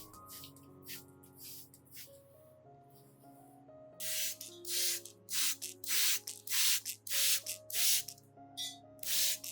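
A hand spray bottle mists liquid onto orchid leaves in a quick run of repeated bright hissing bursts, close and clear over soft background music.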